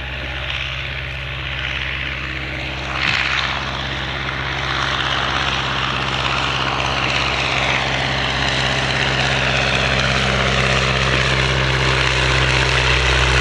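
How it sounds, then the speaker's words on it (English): An Avro triplane replica rolls along the ground at an Edwardian aircraft event at Shuttleworth. Its propeller engine drones loudly and steadily throughout, close by, with a brief bump near the start, and no voices. "So rolling now, Dodge Bailey, an Avro triplane replica."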